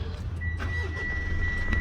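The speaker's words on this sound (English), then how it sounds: "start the engine" A 2021 Mitsubishi Triton Athlete pickup engine starting up, a short low rumbling crank and catch, close and steady, with a faint high whine over it and no talking.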